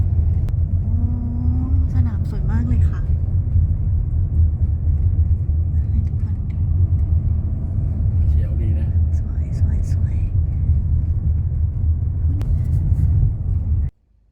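A car drives along a road past a golf course, its low steady rumble of engine and tyres continuous from inside the vehicle while someone talks over it.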